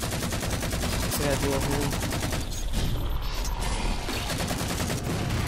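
Gunfire in the Halo 5 video game, dense rapid automatic bursts and shots rattling almost continuously, with a player speaking briefly over the action.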